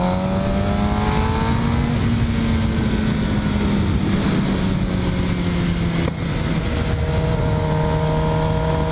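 A motorcycle with an FDB aftermarket exhaust revs on a stand, its engine droning loud and steady with rising and falling pitch throughout, close up and with no talking.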